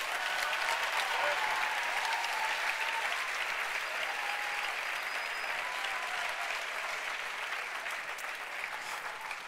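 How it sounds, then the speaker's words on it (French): An audience claps steadily and evenly throughout, a dense wash of applause with no voices over it. "On peut l'applaudir encore une fois."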